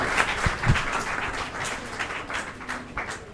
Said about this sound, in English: I think we can clap both for the question and the answer.